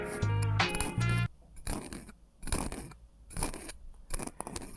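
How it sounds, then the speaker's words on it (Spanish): The comb of a VGR V653 trimmer buzzes against skin in short bursts, with a sharp loud buzz at first, then scratchy, rasping passes with small gaps between them. "Y este sería el peine de la BGR, que escuchen cómo suena si lo pasaría en la piel."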